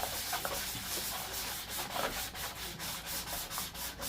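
Rhythmic rasping strokes of sandpaper rubbing across a surface, back and forth at a steady pace, close and fairly loud.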